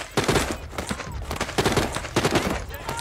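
Bursts of rapid gunfire in The Walking Dead: Saints and Sinners, several loud clustered volleys of shots close by, with brief gaps between them.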